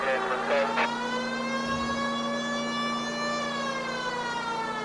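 A police car siren in the video game L.A. Noire wails continuously, its tone sliding slowly up and down over a steady low hum, with a brief burst of other noise near the start.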